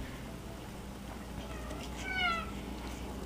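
A short cat meow rises faintly out of steady background hum near the end, single and somewhat distant.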